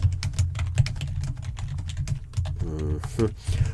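Rapid, steady clicking of keys on a computer keyboard, with dense irregular keystrokes throughout and a brief voice near the end.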